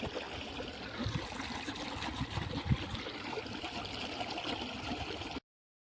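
Irrigation water flows and gurgles steadily through a channel in a cumin field, close by, with a constant rushing wash and a few low burbles, then cuts off abruptly.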